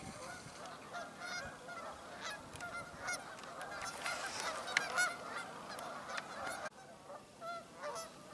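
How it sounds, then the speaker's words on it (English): A flock of geese honks steadily at a small body of water, many overlapping calls near and far forming a continuous clamor without pause. "A lot of geese at this little"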